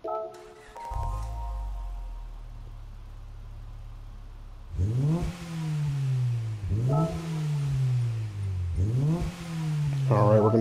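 Honda Civic Type R (EK) from 1997 starting up in Gran Turismo 7: a starter whir, then the engine catches and idles, followed by several sharp revs that climb and fall back, loud and close, with no talking.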